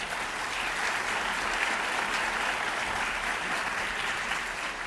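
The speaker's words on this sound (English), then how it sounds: "Let's give him a big round of applause." An audience at an evening scholarship event applauds the university chancellor, steady dense clapping that holds evenly throughout with no voices rising above it.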